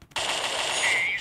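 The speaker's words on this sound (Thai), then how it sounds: "อันนี้ไม่ได้เฮดช็อตนะยิงตัว" Gunfire in the video game Crisis Action: a dense, loud burst of rapid automatic shots that starts abruptly after a brief pause and continues steadily, with no talk over it.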